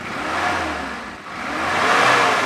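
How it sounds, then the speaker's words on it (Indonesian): A 1994 Daihatsu Zebra 1.3 engine revs up, dips briefly, then climbs again to a loud, sustained roar, close by with no talking. "Coba saya geber."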